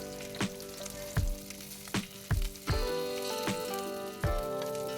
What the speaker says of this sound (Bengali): সবকটা মাছ আমার ভাজা হয়ে গেছে এবার তেল ঝরিয়ে একটা প্লেটের মধ্যে তুলে রাখছি